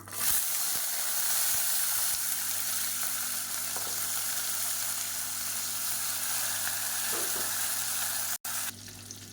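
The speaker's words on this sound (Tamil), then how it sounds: "இப்போ வெங்காயம் லேசாக வதங்கி இருந்துச்சு நல்ல ஒரு ஃப்ளேவர் வருது" Small onions and garlic sauté in oil in a pan for a tomato bajji recipe, giving a steady close sizzle and frying hiss that runs unbroken with no talking, cutting out briefly near the end.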